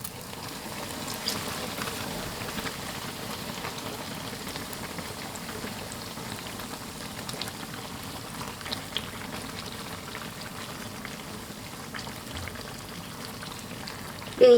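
Flour-and-water batter cakes deep-fry in hot oil with a continuous, even crackle and bubbling hiss, moderately loud and close, with no talking.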